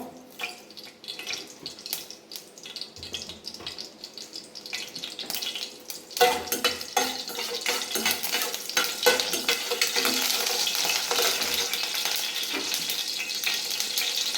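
Mustard seeds and urad dal sizzle in hot frying oil while cooking nattu kozhi fry, a steady crackling hiss that swells louder partway through and keeps going with spoon stirring, with no talking.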